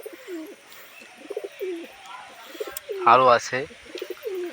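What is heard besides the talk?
pigeons cooing on a rooftop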